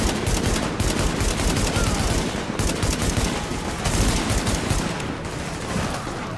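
Rapid automatic gunfire from a gun in The Division video game, a loud, continuous fusillade of close shots with brief dips in intensity, no talking heard.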